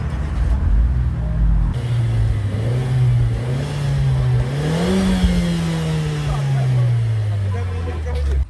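A Renault Lutecia RS Trophy engine runs close by, its pitch rising and falling through steady revs and a smooth climb before settling to a sustained drone.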